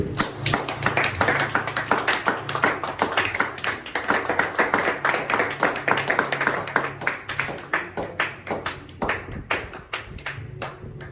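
A church congregation claps together in worship, rapid rhythmic handclaps filling the space steadily and loudly, growing more sparse and spaced out toward the end, with faint voices underneath.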